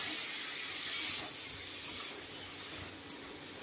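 Water splashed onto masala frying in a pan, giving a steady hissing sizzle that fades a little partway through, with one sharp click near the end and no talking.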